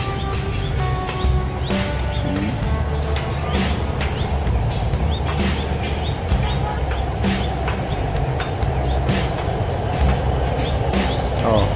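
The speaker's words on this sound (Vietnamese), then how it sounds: "tàu đang chạy về sắt bạc này." A train runs along an elevated railway in Hanoi, a steady loud rumble and rattle of wheels on track that lasts the whole stretch, with faint chirping birds and scattered clicks over it.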